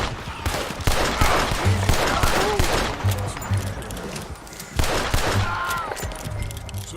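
Gunfire rings out in a Red Dead Redemption 2 standoff with United States Army soldiers over cargo, sustained shots layered over a busy game soundtrack, with character voices heard in between.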